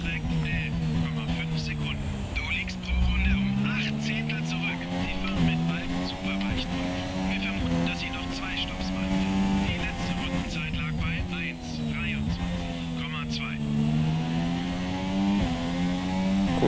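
F1 race car engine from the video game F1 2017, racing at the Hungarian circuit: a continuous high-revving whine that rises and falls through gear shifts, loud and steady throughout, with someone talking over it.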